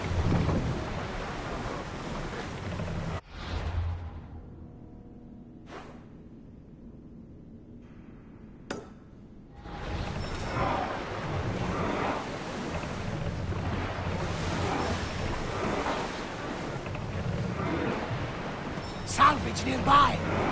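Oars rowing a ship across the open sea in the video game Assassin's Creed Odyssey, with a steady wash of waves and wind that drops away briefly midway before surging back, a few sharp knocks breaking through.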